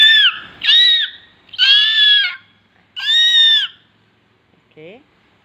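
A voice imitates an eagle call with four loud, high, drawn-out screeching cries in a row, each held for a moment, followed by a brief, quieter voiced sound at the end.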